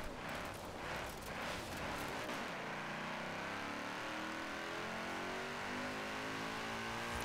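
A supercar engine revs hard in the Forza Horizon 4 racing game, a loud sustained roar that climbs through rising pitch sweeps then holds at a high, steady drone with no voices over it.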